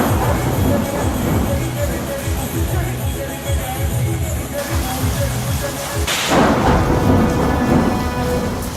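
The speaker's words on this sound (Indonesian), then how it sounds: "Panggung dangdut disambar petir." Heavy rain pours during a thunderstorm over an outdoor dangdut stage, loud and constant, and lightning strikes it with a sharp, crashing crack of thunder partway through before the downpour rolls on.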